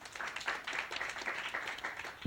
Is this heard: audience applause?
yes